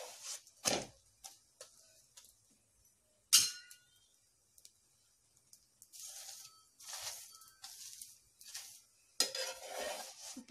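Puran poli is flipped and roasted on a pan, with sharp clinks and taps of a utensil against the pan and soft patches of sizzling. The sounds come close and sporadic, with quiet gaps between them.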